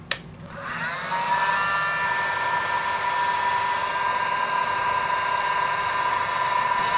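A heat gun shrinks heat shrink tubing over a closed barrel splice on shielded wire, blowing as a steady, loud airy roar with a thin whine running continuously throughout.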